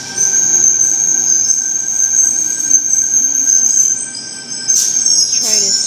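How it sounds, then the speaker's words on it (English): A Sydney Trains M-set arrives at a suburban platform with a loud, steady high-pitched wheel squeal over a low rumble, rising into sharper screeches near the end as the train slows. "T96 with the M-set doors arriving on platform number 2."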